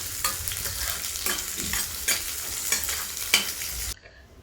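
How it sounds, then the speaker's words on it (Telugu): Onion pieces fry in oil for Andhra-style masala vada pulusu, a steady hissing sizzle broken by regular scraping stirs, close and fairly loud, with no voices before the sound cuts off abruptly near the end. "ఈ ఉల్లిపాయ ముక్కలు పచ్చివాసన పోయి బ్రౌన్ కలర్ వచ్చేంత వరకు ఖచ్చితంగా ఫ్రై చేసుకోవాలి"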